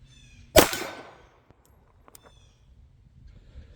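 A German Artillery Luger pistol fires at a target on an outdoor range: one sharp, loud report followed by a short ringing decay. Faint small clicks and taps follow in the quiet afterward.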